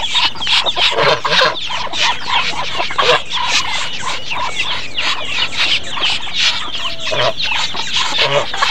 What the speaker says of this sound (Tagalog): jumbo ang mga manok dito